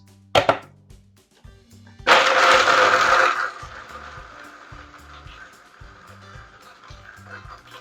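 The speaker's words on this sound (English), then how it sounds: "this is going into the blender for a couple minutes" A blender whirs loudly for a little over a second, pulverizing raw cashews with lemon juice, cloudy apple cider vinegar and garlic. A sharp knock comes first, and a quieter hum with faint rhythmic thumps runs underneath.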